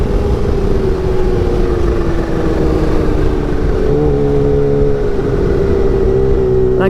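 A Kawasaki Ninja H2 motorcycle accelerates hard on a test ride, its loud engine rising steadily in pitch with a shift partway through, close and continuous with no talk.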